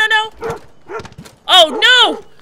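A dog yelps sharply in Life Is Strange, a few high, whining cries close up that are mixed with loud, excited speech.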